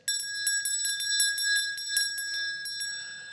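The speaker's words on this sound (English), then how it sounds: "This is the actual dinner bell that my grandparents used and my parents used to ring on the farm and in our home when dinner was ready" An old farm dinner bell, handed down through the family, rings in a rapid, steady clangor of bright metallic strikes that carry on for several seconds before fading, loud and close with no talking.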